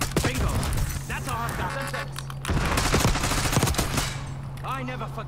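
Close, loud automatic gunfire erupts in Call of Duty Black Ops 6, dense overlapping bursts of shots and sharp cracks in a continuous barrage, with a player's voice heard briefly amid the noise.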